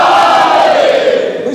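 A loud crowd at a majlis in the Mughal Imambargah, Surat, shouts religious slogans in unison, a dense, close, sustained roar of many voices that holds steady, then eases slightly at the end.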